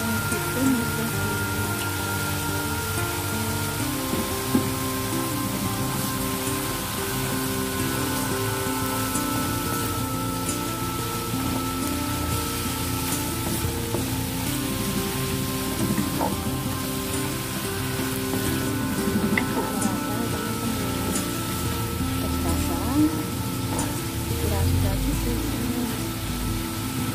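Squid with asparagus and wood ear mushrooms stir-frying in a pan, a steady sizzle with light crackles and scraping, close and continuous.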